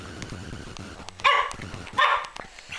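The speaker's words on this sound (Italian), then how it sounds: "Lui abbaia continuamente." A pug gives two sharp barks close by, separated by a short pause, over quiet background noise.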